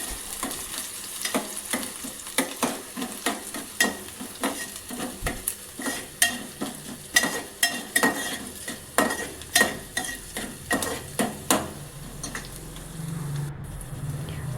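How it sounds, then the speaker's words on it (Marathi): Finely chopped onion frying in a spoonful of oil in a pan, a steady soft sizzle broken by regular scraping strokes of a spoon stirring, close and moderately quiet, with no talking. "आता मी इथे एका भांड्यामध्ये 1 चमचा तेल घेतलेला आहे, त्यामध्ये 1 कांदा बारीक चिरून घातलेला आहे।"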